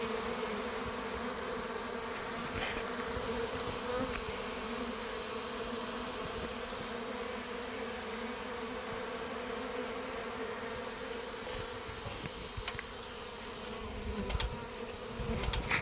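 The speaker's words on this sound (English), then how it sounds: "all the bees that were straggling, wandering around aimlessly" Honey bee swarm from an August swarm entering the hive, a dense steady buzzing hum of many bees close by, continuous throughout with no talk.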